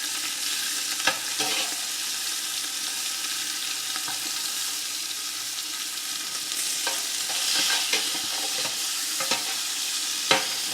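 Meat sears on a Blackstone flat-top griddle with a steady broadband sizzle, and occasional sharp scrapes and clicks of a spatula break through it. The cooking sits close and carries on alone at an even level, with no voices.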